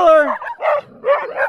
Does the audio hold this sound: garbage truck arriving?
no